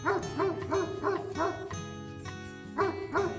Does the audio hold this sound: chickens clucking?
no